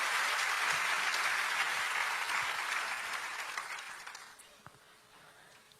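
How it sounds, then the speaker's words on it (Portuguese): A church congregation applauds the Lord after a sermon reading: a dense, sustained wash of hand clapping that holds steady, then thins and fades out over the last seconds. "Você pode aplaudir ao Senhor pela sua palavra agora?"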